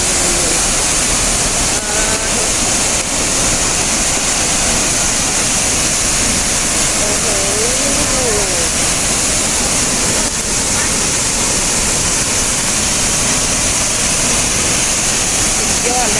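A waterfall in Laos, Khao falls at Pakxong, roars as a loud, steady wash of falling water, with faint voices and brief whistle-like sounds now and then.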